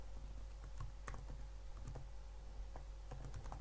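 Rapid typing on a computer keyboard, a quiet run of soft, irregular key clicks that carries on steadily over a constant low hum.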